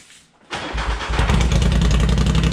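A lifted Polaris Sportsman 850 ATV on portal gear lifts and large tires cranks and fires up cold. A short quiet moment comes before a sharp catch, then a loud, close, steady idle with a rapid pulsing rumble.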